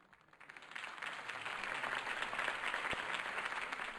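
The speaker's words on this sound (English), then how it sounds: "If only Mr. Wayne, my campaign's largest backer, could have heard that applause" Crowd applause from the Batman Telltale video game rises after a campaign speech and settles into sustained, dense clapping, moderately loud and without talk.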